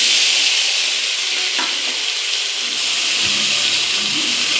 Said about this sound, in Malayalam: ഇതുപോലെ ഇഞ്ചിയും പച്ചമുളകും കൂടെ ഒന്ന് നല്ലവണ്ണം വഴറ്റിയെടുത്തിട്ട്